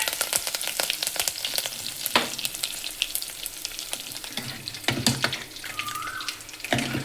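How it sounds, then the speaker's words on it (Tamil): Mustard seeds splutter and pop in hot oil in a clay pot while tempering for sambar, a busy crackling sizzle with scattered sharp pops throughout, no voices. "தேவையான அளவு கடுகு சேர்த்துக்கலாம். கடுகு பொரியட்டும்."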